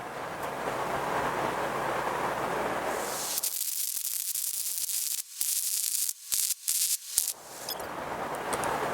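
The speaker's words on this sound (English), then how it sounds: "I'm going to go ahead and weld now the backs of these." Welding with argon shielding gas on the backs of shop crane parts gives a steady hiss with a fan blowing nearby, then several short, sharp bursts of crackling noise, close and with no speech.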